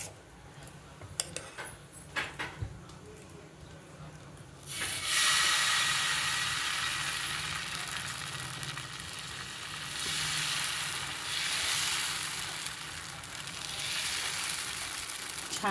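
Dosa batter made from mixed lentils rather than urad dal hits a hot tava and sizzles loudly, a steady crackling hiss that swells after a few quiet seconds of faint clatter and stays strong and close.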